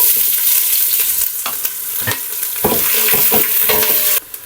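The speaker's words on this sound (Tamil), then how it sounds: "இந்த ஆனியனு குயிக்காக ஃப்ரை ஆகிடும்" Four sliced onions with green chillies, fennel and bay leaf fry in a pot for chicken dum biryani, a steady loud sizzle broken by several clanking stirs and scrapes, close and without talk.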